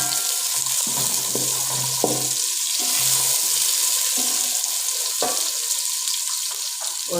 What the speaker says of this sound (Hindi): प्याज भी थोड़ा सा फ्राई करेंगे